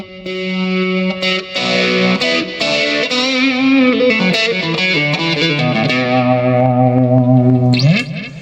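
Distorted electric guitar chords ring out through a Blackstar ID30 amp with a sweeping, swirling phaser effect, played continuously with no voices.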